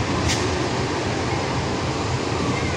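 The KA Bukit Serelo passenger train runs from Lubuklinggau toward Kertapati with a steady, close rumble and hiss inside the carriage, even and unbroken for the whole stretch.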